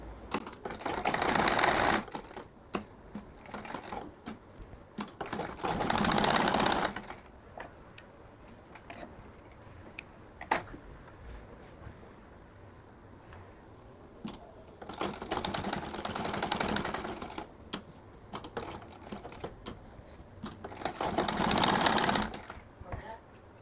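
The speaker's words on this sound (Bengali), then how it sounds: "এবার সুতা চেঞ্জ করে এইখানটাতে সেলাই করব" A sewing machine stitches a pocket onto a fatua in several loud bursts of rapid, even whirring, separated by quieter stretches of ticking and handling where a person speaks.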